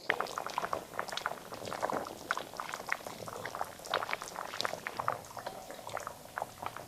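Nellore fish curry with mango pieces boils in a pot, giving continuous close bubbling with dense irregular pops and blips at an even, moderate loudness.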